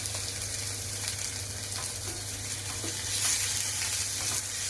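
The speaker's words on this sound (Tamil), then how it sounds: "பாருங்கள், கருவேப்பிலை கொஞ்சம் நல்லா வதங்கட்டும்." Curry leaves frying in hot oil in a pan for a Tirunelveli sodhi kulambu, a steady close sizzle and crackle with faint stirring, no talk.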